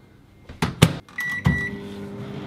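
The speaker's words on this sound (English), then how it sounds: "let's get it in the microwave" A microwave oven used to cook bacon in a microwave bacon cooker: two sharp clunks, a short beep, then a steady low running hum begins, close and moderately loud with no talking.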